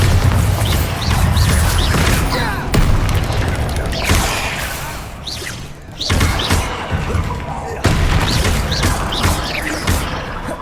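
Bombarda explosion spells in Hogwarts Legacy going off in a busy combat scene, with loud, dense booms and thuds recurring every couple of seconds, some of them sharp and crashing, over a constant rumble of battle sound.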